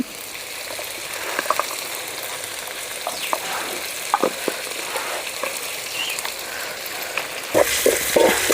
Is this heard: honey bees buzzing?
no